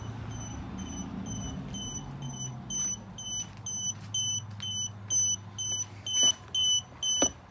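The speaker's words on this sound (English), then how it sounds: "I hear something beeping" A Duracell portable jump starter beeps in a repeating pattern of short, clear electronic tones at a steady rhythm, close by and fairly loud over quiet background rumble with occasional handling knocks.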